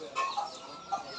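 A hen that has just laid an egg clucks in a few short bursts nearby, with faint background noise around the calls.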